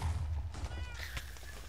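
A Minecraft cat gives a single short meow over a low rumbling background, fairly faint and brief, with no talking.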